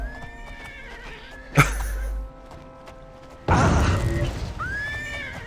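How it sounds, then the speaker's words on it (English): A horse in the video game Oblivion whinnies twice, short calls separated by a couple of seconds, amid a sudden loud crash and game music. "The horse has gone crazy."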